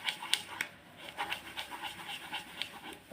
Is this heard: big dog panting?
yes